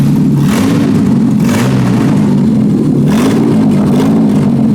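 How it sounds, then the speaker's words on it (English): A Ford AU Falcon engine running with only headers fitted and no rest of the exhaust revs hard, rising and falling in loud, raw surges that stay close and continuous. "let's see what it sounds like with literally just the headers on"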